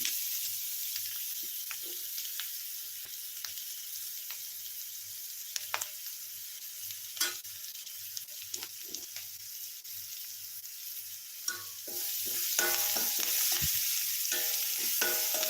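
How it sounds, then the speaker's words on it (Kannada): Dry fish sizzles and crackles in a pan, with a continuous soft hiss punctuated by sharp stirring clicks and scrapes. Stirring grows busier and louder toward the end, with no one speaking. "ಈ ರೀತಿ ಚೆನ್ನಾಗಿ ಫ್ರೈ ಮಾಡ್ಕೊಳ್ತೀನಿ"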